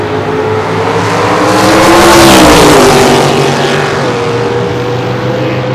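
A '69 Chevelle and a '66 Chevy Nova launch in a drag race elimination, a loud roaring engine surge that swells to a peak midway and then fades as the cars pull away.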